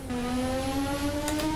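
Racing car engine in a Monaco racing video game, a loud sustained harmonic tone holding steady and then dipping slightly as the car downshifts, with brief bursts of higher noise near the end.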